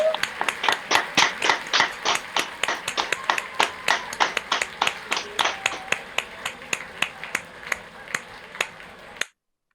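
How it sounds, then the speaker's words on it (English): Sparse, steady clapping from one or a few people at a virtual graduation ceremony, sharp individual claps in a fairly regular rhythm that thins out and stops abruptly. "Please unmute yourselves and give yourselves all a big round of applause."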